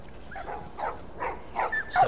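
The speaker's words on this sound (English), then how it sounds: "These dogs are all accounted for." Dogs bark and yelp in The Last of Us Part 1 game, several short rough barks spaced about half a second apart, moderately loud over a low background murmur.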